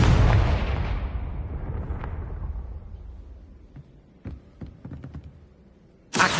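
A loud burst from the Confringo fire spell in the Hogwarts Legacy game on PS5, a booming blast that decays over several seconds, then scattered sharp cracks and a second abrupt blast at the end.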